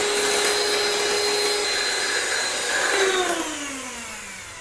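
An electric mixer beats egg yolks at high speed for a pineapple upside-down cake, its loud, whining motor droning steadily close by before the pitch slides down as it winds toward a stop.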